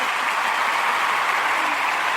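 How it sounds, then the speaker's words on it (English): A round of steady, dense applause, close and continuous throughout without a break. "I got to give you a round of applause."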